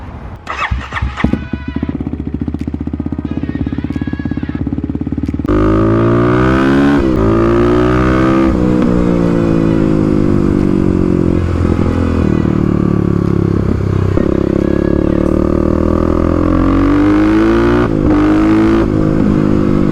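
Stage 3 Kawasaki KLX351 motorcycle engine starting after a few cranking bursts, then revving hard and loud at close range with rising and falling throttle blips, no talk.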